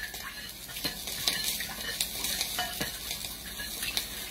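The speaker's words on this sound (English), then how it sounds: "I'm gonna mix the water and the slow cooker apparently, and the soup" Water and soup are stirred in a slow cooker to make white gravy for country fried steak, with repeated scraping strokes and light clinks of a utensil against the pot.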